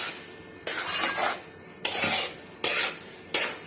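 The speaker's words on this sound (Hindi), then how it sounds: "तब तक भुनाई करनी है जब तक ये कढ़ाई को छोड़ने न लग जाए" Carrot halwa being stirred and roasted in a kadhai over low heat: four scraping strokes of a spoon against the pan, one every second or so, with a soft sizzle underneath and no talking.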